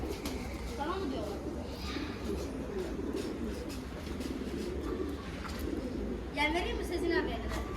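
Young red-patterned pigeons in a coop coo and murmur steadily at close range, with someone talking over them throughout.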